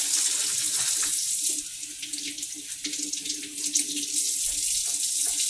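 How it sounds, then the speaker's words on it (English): Tap water runs steadily into a kitchen sink as fruit and vegetables are rinsed, a close, continuous hiss and splash with slight shifts where the produce interrupts the stream, and no speech. "Always rinse your fruit and your vegetables off."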